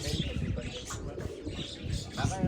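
Pigeons coo softly in a steady, murmuring chorus close by, with a voice talking over them throughout.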